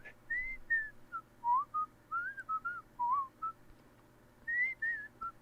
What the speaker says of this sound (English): I can hear a faint whistling sound.